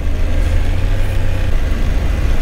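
A motorcycle engine runs steadily and loudly up close on a slippery dirt road with fine sand along the Estrada Real, a low, continuous drone with no pauses and no talking.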